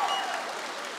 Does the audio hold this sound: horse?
no